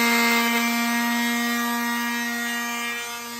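Sanding cut sign lettering, likely with a power sander, gives a steady continuous drone with a strong tonal whine and a faint rubbing texture, loud and close, fading slightly at the end with no talk.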